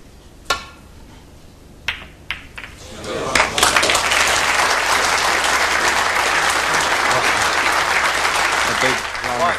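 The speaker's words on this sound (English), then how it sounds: "A big round of applause" Snooker crowd bursts into applause after John Higgins plays a shot against Ken Doherty, a few isolated sharp knocks first, then sustained loud clapping until the end.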